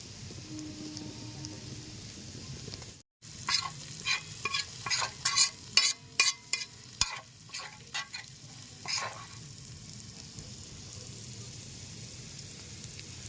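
Spices fry in hot mutton fat in a village kitchen pan for chowmein, a soft steady sizzle broken by a run of sharp, close stirring scrapes in quick succession before settling back to quiet frying.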